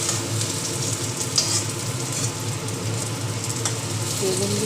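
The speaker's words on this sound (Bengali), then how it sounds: "এভাবে উল্টে পাল্টে প্রত্যেকটা বেগুনকে ভালো করে ভেজে নিতে হবে" Eggplant (brinjal) slices fry in hot oil in a kadai, giving a steady, close hiss of sizzling that runs evenly throughout with a few brief crackles.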